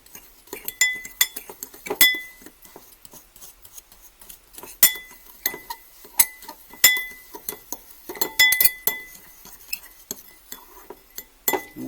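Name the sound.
mixing brown sugar and cinnamon in a bowl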